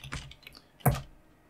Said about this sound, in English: we'll type in the program we want to run